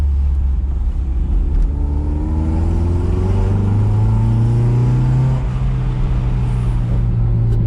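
A Toyota MR2 SW20 with a Mongoose exhaust and the roof off drives past or along at close range, its loud engine droning and climbing steadily in pitch as it accelerates.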